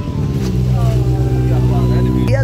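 Kawasaki H2R motorcycle engine running nearby with a steady, deep, rumbling drone throughout, while a person talks over it.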